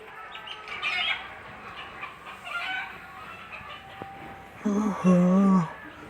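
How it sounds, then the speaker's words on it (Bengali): Morning farmyard with chickens, soft clucking and rustling giving way to a loud rooster crow near the end, heard close amid background noise. "সকালবেলায় আর এত মোরগের ডাক"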